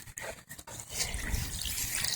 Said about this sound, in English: you can see it's just trickling in there all the time